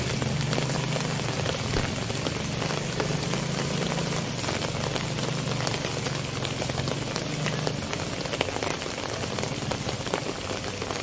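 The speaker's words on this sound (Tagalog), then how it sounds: "Wala pang tigil yung ulan." Steady, dense rainfall pattering on surfaces, loud and continuous, with a low rumbling engine faintly underneath.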